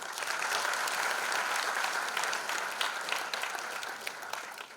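Enthusiastic audience applause at a live concert event honoring the musicians, a thick sustained wash of clapping with sharp individual claps poking through, gradually easing toward the end.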